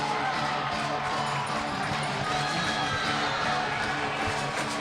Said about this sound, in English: This crowd is rocking.